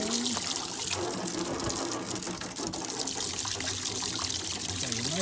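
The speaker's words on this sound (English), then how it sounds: "give it a liberal spray in with some water just to loosen off any of the loose dirt" A steady hiss of spraying water splashes continuously inside a caravan waste water container, close and fairly loud, with no talking.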